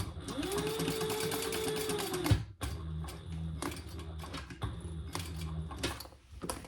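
A sewing machine runs steadily while stitching a bag lining seam, a close mechanical whir with a brief pause and clack midway before stitching resumes in shorter, even bursts.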